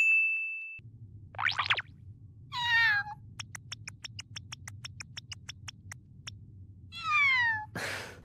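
A voice imitates a cat meowing in a Dragon Ball Super episode, with several drawn-out meows mixed with a quick series of bright chiming dings over a low hum.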